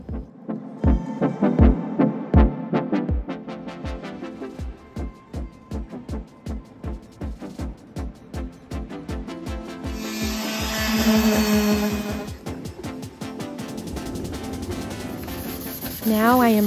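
Scuff sanding by hand across a wooden furniture piece, a steady run of rhythmic rubbing strokes, close and fairly loud, with a harsher hissing stretch near the end.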